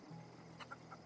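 A chicken in the video game The Outer Worlds gives a few soft, quiet clucks over a faint, steady background hum, with no voices.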